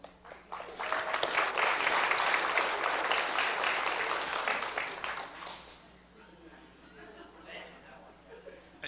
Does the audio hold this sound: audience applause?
yes